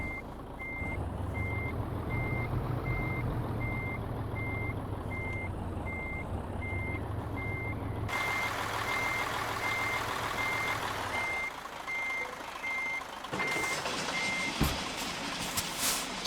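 A brand new Scania R730 truck sounds a steady, evenly spaced reversing beep that repeats throughout over its loud engine rumble, with the engine note shifting partway through.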